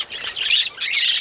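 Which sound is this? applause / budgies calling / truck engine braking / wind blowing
budgies calling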